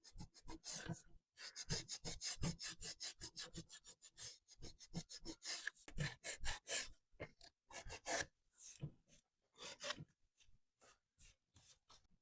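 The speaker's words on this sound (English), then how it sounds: "Yes, we had to sand it to fix it" Close, rhythmic hand sanding of wood furniture to smooth away glue squeeze-out, dense rasping strokes in quick bursts with brief pauses between, loud and alone.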